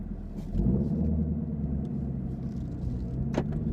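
A 2016 Chevrolet Camaro SS with a manual clutch pulls away in first gear, heard from inside the cabin as a low, steady engine rumble with a few faint clicks and knocks.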